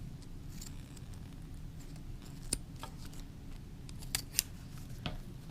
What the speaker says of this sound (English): So you're going to cut off the little metal things.